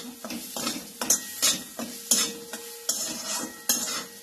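A spoon stirs a thick pakoda batter of spiced chilli mixture in a bowl, scraping and slapping in uneven repeated strokes with light clinks against the side, close up and without talk.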